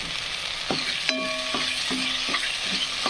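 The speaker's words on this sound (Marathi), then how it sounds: "तर आपला मसाला फ्राय होत आहे" Masala spices frying in a pan for mutton rassa hiss steadily up close, punctuated by several ringing metallic clinks and taps of a spoon against the pan, and no one speaks.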